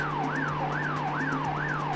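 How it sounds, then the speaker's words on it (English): An emergency siren in The Getaway video game loops during a freeze, wailing up and down in fast, regular sweeps about every half second over a steady low hum, with no voices. "And the siren's looping too."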